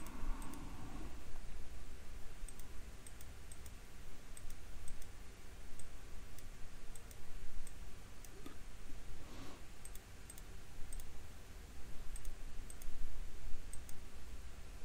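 Cockpit switches in a flight simulator being flicked off to shut down the aircraft: a scattering of small, sharp clicks spread irregularly over a quiet, steady background hum, with no talking.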